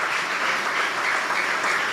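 A church congregation applauds at a preaching service, dense steady clapping filling the room evenly from start to finish with no talk over it.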